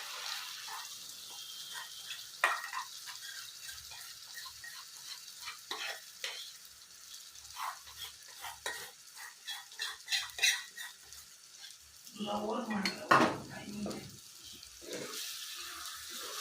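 Fried potatoes being stirred with a yogurt masala in a pan for dhaba-style aloo bhuna, soft scraping and gentle sizzling in irregular strokes, quiet and close, with a louder stretch of stirring near the end.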